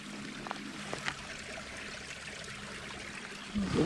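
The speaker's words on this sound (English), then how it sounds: "A little stream right next to the hut." A small stream flowing beside a hut near the old Glenorchy scheelite mine on Mount Judah, a faint continuous trickle with a few soft clicks, then a louder brief rustle at the end.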